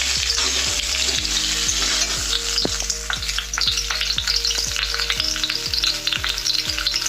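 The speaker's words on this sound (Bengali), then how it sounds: "তো আমার তেলটা গরম হয়ে গেছে, এবার আমি আলুগুলো দিয়ে দেবো। তো দেখো আলুগুলোকে ভালো করে ভেজে নেবো।" Potatoes frying in hot mustard oil in a Bengali home kitchen, a loud close crackling sizzle broken by repeated sharp spatula knocks and scrapes against the pan.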